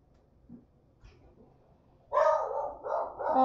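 A crated dog in another room barks repeatedly in the second half, a muffled run of yips and barks following a quiet stretch with faint indoor noise.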